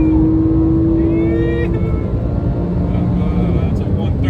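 A Porsche GT3 sports car engine roars at speed, loud and continuous, with a sustained rising whine that holds throughout.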